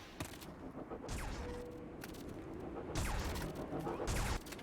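Explosions detonate in the video game Black Mesa during a speedrun, several heavy booming blasts with crashing debris, moderately loud over a dense rumbling game soundscape.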